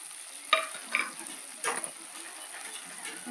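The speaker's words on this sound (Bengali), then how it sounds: "এর মধ্যে দিয়ে দেবো ভেজে রাখা আলু" Fried potatoes going into a spice paste frying in oil for magur fish curry, a steady close sizzle with a few sharp clacks of a spoon or ladle at the start.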